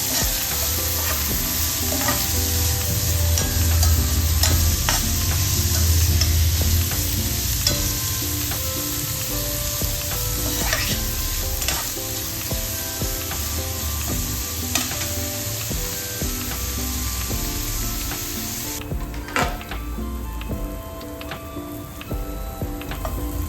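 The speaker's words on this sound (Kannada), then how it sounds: "ಹಸಿಮೆಣಸಿನ್ಕಾಯಿ, ಕರಿಬೇವು, ಈ ಮೂರನ್ನು ಚೆನ್ನಾಗಿ ಫ್ರೈ ಮಾಡ್ಕೊಳ್ಬೇಕು." Green chillies, onion and curry leaves fry in hot oil in a pan for paneer bhurji, a steady loud sizzle with repeated scraping and clinking stirring strokes throughout, no voices.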